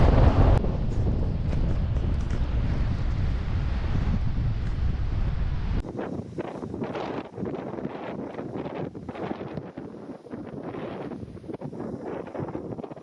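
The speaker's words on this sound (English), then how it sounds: "Hell of a wind blowing." Strong wind roars steadily across the microphone at a beach beside a headland, with the wash of surf blended underneath in a continuous loud rush that drops slightly partway through.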